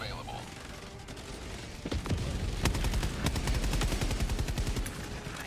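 Helldivers weapons empty whole magazines in rapid automatic bursts, a few single shots building into a long, dense string of close gunfire with heavy low thumps, while a voice talks.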